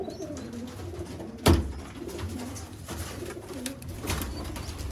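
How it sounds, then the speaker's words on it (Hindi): Teddy pigeons coo softly and repeatedly at a pigeon seller's loft, low rolling coos close by, with a sharp flapping or knock partway through. "ये जी टैडी कबूतर माशाल्लाह"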